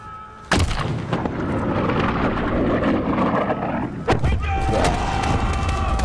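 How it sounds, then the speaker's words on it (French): Cannon blasts from Call of Duty Modern Warfare boom in sharp, heavy bursts, one near the start and another a few seconds later, over ongoing battle noise and voices. "Tirez au canon!"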